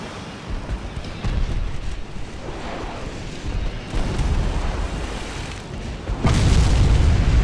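A naval battle game's ship ammunition flash fire: a rumbling, sustained roar of deep booms that swells in waves and ends in a louder blast near the end.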